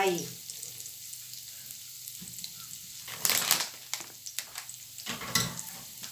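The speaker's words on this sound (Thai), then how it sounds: "พริกกระเทียมใส่ลงไป" Chili and garlic hit a hot pan for a seafood instant noodle stir-fry, crackling with a steady soft sizzle and occasional louder stirring scrapes and bursts.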